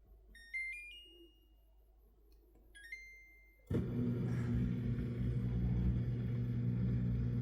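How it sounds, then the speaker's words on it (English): Samsung dishwasher running empty without dishes: a few electronic beeps sound at first, then the machine starts with a sudden, steady low motor hum and water whoosh that continues close and unbroken. "I'm just gonna let it run without dishes."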